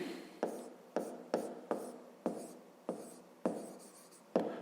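A pen writes numbers by hand on paper in short scratchy strokes, about eight distinct quick bursts in an uneven rhythm, close and quiet with no talking.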